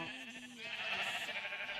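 Minecraft sheep bleating in the game, one short wavering bleat heard clearly and close, with no talk over it.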